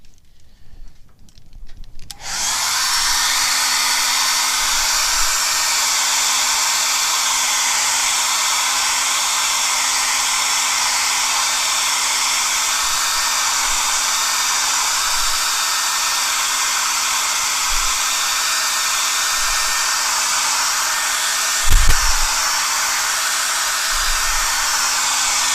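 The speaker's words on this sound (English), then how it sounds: "I can blow dry that to see it's shiny and wet" A hair dryer blows steadily on wet paint on a canvas, a loud constant whoosh that starts abruptly after a brief quiet moment and holds unbroken, with one faint knock partway through.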